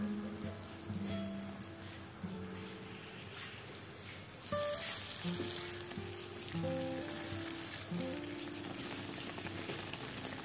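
Coconut-water bánh tai yến cakes fry in hot oil with a steady, close crackling sizzle that runs throughout and swells louder partway through, with no voices.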